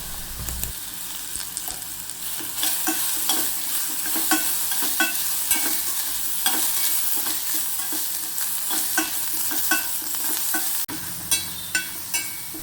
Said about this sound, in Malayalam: അതിലേക്ക് നമുക്ക് കുറച്ച് നെയ്യ് കൂടി ഇട്ട് കൊടുക്കാം നെയ്യൊന്ന് ഉരുകി വരുമ്പോഴത്തേക്കും നമ്മൾ അരിഞ്ഞു വെച്ചിരിക്കുന്ന ഏത്തപ്പഴം നമുക്ക് അതിലേക്ക് ഇട്ടിട്ട് ഒന്ന് വഴറ്റാം